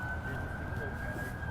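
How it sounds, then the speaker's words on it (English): A vehicle siren wails as it passes on a city street on Inauguration Day, a steady sustained tone held loud over dense traffic and crowd rumble. "We got sirens."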